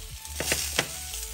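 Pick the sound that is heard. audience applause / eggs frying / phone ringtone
eggs frying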